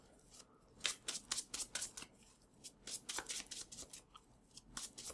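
Magic: The Gathering deck being shuffled by hand, close and quiet, with a run of quick crisp riffling bursts repeating in a steady rhythm and no talking.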